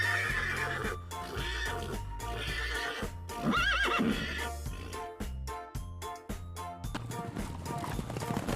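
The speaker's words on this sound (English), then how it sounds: "It's a horse." A horse gives one clear whinny near the middle, laid over a busy children's farm-animal music bed with hoofbeat-like clip-clop rhythm throughout.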